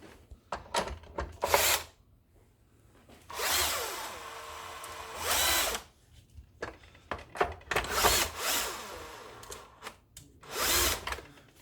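An electric screwdriver runs in several short whirring bursts as it drives nuts while a drive belt is replaced on a ROBO-PLUS machine, with quiet handling and tapping noises between the bursts.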